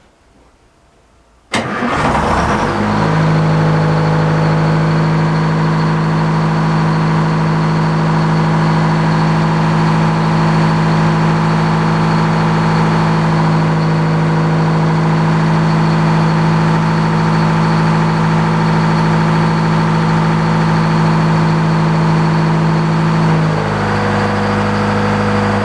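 An old sawmill engine starts with an abrupt burst and settles into a steady, loud, close running drone, its pitch dipping slightly near the end as the alternator is engaged and loads it.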